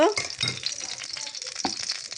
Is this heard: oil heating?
yes